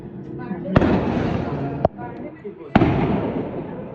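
Chinese New Year fireworks set off near a building in Bangladesh burst in three sharp, loud cracks, each followed by a crackling rumble and echo, while people talk excitedly between the blasts.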